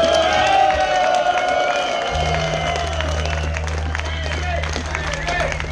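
A concert audience applauds and cheers, a dense crowd roar of clapping that runs steadily throughout, with a low sustained tone joining underneath partway through.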